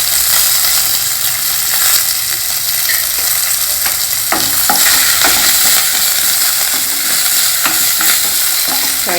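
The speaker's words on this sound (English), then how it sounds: "Fry them also in the oil." Grated ginger, chopped green chili, cashew nuts and curry leaves fry loudly in hot oil with a dense, continuous sizzle, while repeated close spatula scrapes and clacks stir them through the pan.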